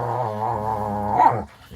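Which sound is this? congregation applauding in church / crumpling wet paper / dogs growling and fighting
dogs growling and fighting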